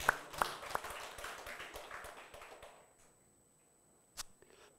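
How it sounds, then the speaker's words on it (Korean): A church congregation at a Sunday service bursts into applause that starts loud with a couple of sharp claps, fades steadily over about three seconds into quiet, then a single faint clap sounds near the end. "우리 모두 다 하나님께 영광의 박수 한번 돌리겠습니다."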